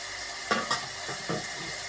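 Marinated chicken and onions frying in oil, a quiet steady sizzle broken by a few short stirring scrapes and bursts.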